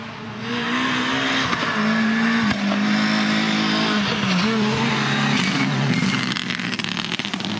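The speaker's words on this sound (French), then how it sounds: "Donc ici, la mission, c'est de faire partir la voiture en course." Rally car at the start of a timed stage in a mountain rally at Aillon-le-Jeune, engine revving loudly and steadily close by for several seconds, with a strong throbbing low drone and varying pitch.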